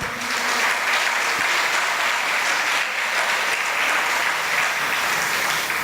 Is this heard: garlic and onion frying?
no